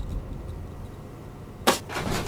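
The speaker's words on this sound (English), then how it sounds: "The violent smack is actually loud enough that the audio can be heard on camera." A single sharp, loud smack lands on a man's chest in what is presented as a ghost video, cutting through a steady background hiss and followed by a brief softer rustle.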